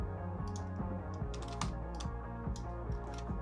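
Rapid typing on a computer keyboard, a steady run of close, crisp key clicks in an irregular rhythm with no voices over it.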